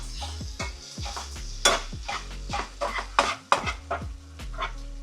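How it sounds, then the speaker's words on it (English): Onions and Steak-umm steak shaved beef sizzle on a hot griddle while a spatula scrapes and clanks through them, sharp metallic hits standing out over a steady frying hiss, close and fairly loud with no talking. "Now it's time to drop them onions back up in there."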